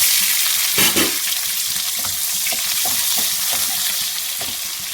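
Onion pieces and two dried red chillies fry loudly in a pan for a ridge gourd curry, with a steady close sizzle and intermittent scraping stirs.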